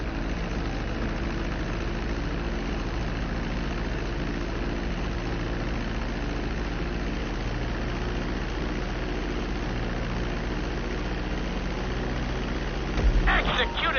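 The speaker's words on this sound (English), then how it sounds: "Now let's get the plane off the runway." Airplane engines idle in GTA 5 after landing on a runway, a steady low drone with constant hum and no break, a short clatter near the end.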